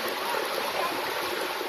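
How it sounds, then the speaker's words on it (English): Liquid waste pours steadily into the River Benue with a continuous rushing, splashing wash of water, loud and unbroken throughout. "A video showing liquid waste released into the River Benue."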